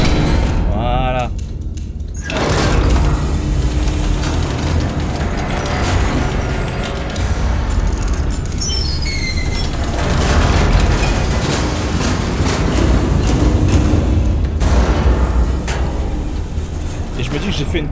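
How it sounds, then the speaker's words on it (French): Large artillery shell detonations in the game Iron Nest, a dense run of loud booms and rumbling blasts with mechanical clatter, sustained throughout with a brief lull near the start and talk over the top. "On va mettre le gros obus pour tester la puissance explosive."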